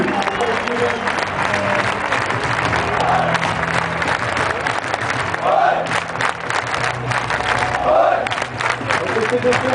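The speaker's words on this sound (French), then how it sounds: "Applaudissez les joueurs, respectez." Olympique de Marseille stadium crowd at the Vélodrome applauding players, a dense, steady roar of clapping and voices that stays loud throughout, with shouts rising out of it now and then.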